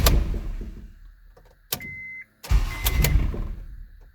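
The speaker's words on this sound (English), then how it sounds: "Well, it's firing pretty quick at least, so the fuel might be primed already." Honda Civic engine cranking with the key, then catching and running; a rough mechanical churn is followed by a brief pause and the engine firing up into a steady idle, close and fairly loud.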